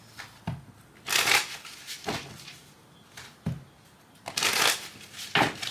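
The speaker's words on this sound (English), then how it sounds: "So let's do a shuffle" Tarot cards are shuffled in several short riffling bursts, separated by quieter gaps, close and fairly soft.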